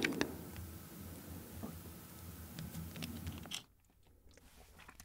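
Close-up chewing of spicy mala noodles tossed in steamed monkfish sauce: wet, crunchy bites and mastication sounds for several seconds, then a quiet pause near the end, no talking.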